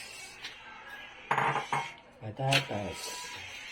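Potatoes dropped into a metal cooking pot for Filipino nilagang baka beef stew, a few clattering knocks and clinks of pieces hitting the pot in a brief cluster, close and fairly faint, with a voice speaking faintly in the background.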